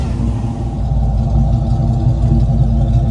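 A 1969 Chevrolet Camaro RS/SS convertible's V8 rumbles loudly and steadily close by as it pulls away, a deep continuous engine drone with no voices.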